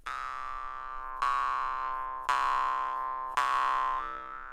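A basic jaw harp played with no technique gives four twangy, buzzing plucks, each a sustained drone that slowly decays before the next strike, loud and alone.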